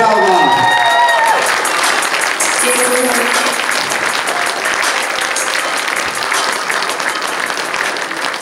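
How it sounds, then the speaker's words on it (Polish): Audience at a sports dance tournament final applauding and cheering loudly after a thank-you to the organizers, sustained dense clapping with some cheers, fading only slightly across the span. "Wielkie brawa!"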